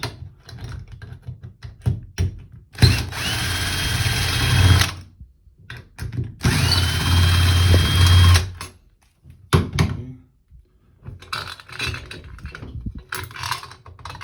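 Power drill unscrewing parts of a Danze shower valve during a cartridge replacement, two sustained whirring runs of a few seconds each with short clicks and handling noises between, close and loud.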